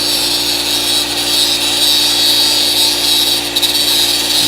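Cutoff wheel lightly surfacing the metal of a car's inner rocker panel, a steady close whining grind with a high tonal edge, continuous and loud throughout with no talk.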